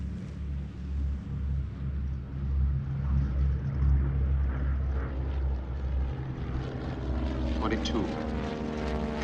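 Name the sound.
B-17 Flying Fortress bomber landing with engine out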